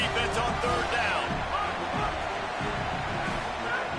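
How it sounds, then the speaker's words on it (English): Stadium crowd in a college football video game roaring loudly and continuously on a third-down defensive stand, with dense cheering and babble filling the whole stretch. "Decibels rising as the crowd gets behind this defense on 3rd down"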